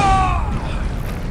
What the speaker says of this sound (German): als Sekundärfeuermodus einen sehr starken, präzisen Schuss